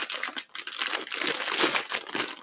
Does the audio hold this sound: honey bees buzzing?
no